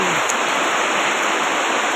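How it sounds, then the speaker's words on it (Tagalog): Heavy evening rain pouring down as a steady, loud, dense hiss that fills the whole clip without a break. "Ayan guys, kasi ang lakas ng ulan dito"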